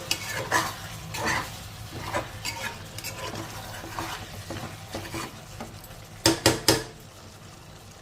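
Spoon stirring chicken in a thick gravy in a pan with a soft sizzle underneath, scraping strokes at an irregular rhythm and a few sharper clinks of metal on the pan near the end, no talking.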